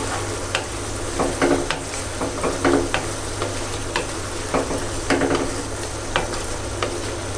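Prawn bhuna frying in a pan, a steady close hiss of sizzling oil with repeated scraping stirs and light clinks of a spoon against the pan, no talking.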